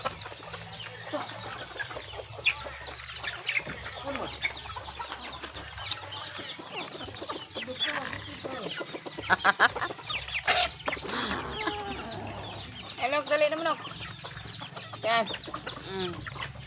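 Many chickens cluck and chatter continuously nearby, a busy flock with occasional louder squawks and a brief burst of laughter from a person.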